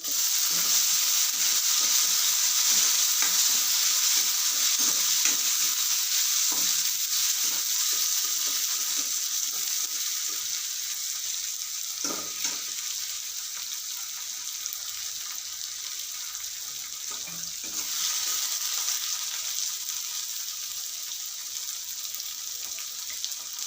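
Chopped tomatoes sizzling in a hot pan while moong dal is being made, a continuous bright hiss with occasional scrapes and clicks of a spoon, no talking.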